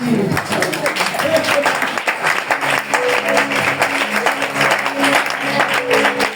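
A congregation at a prophetic church service applauds steadily and loudly, a dense wash of clapping that carries on under voices throughout.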